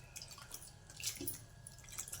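Water drips and splashes softly in a sink while Bombay duck fish are rinsed, with small intermittent trickles and splatters, fairly quiet and close.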